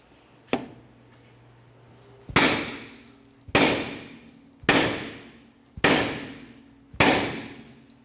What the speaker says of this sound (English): I'm just going to use a hammer